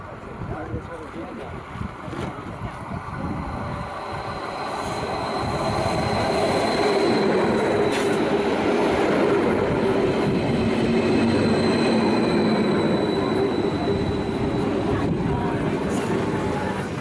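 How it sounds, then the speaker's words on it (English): A Stadler Flirt electric train rolls in at Oslo, its hum and wheel noise building from faint to steady and loud, with a thin squeal of wheels on the rails. "I think this is our train that is now arriving."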